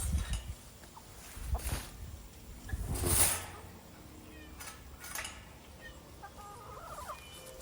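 Backyard hens in an Ohio garden clucking and murmuring close by, a few louder bursts rising over soft scratching and rustling.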